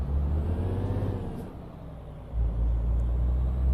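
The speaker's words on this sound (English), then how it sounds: "the engine started freaking out" A heavy truck engine in a trucking video game drones and rumbles loudly, dips briefly, then surges back with a deep roar, steady and close with no talking.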